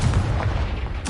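A Confringo fire spell bursts in Hogwarts Legacy, a loud, booming blast like artillery fire that rolls on throughout, with a sharper crack near the end.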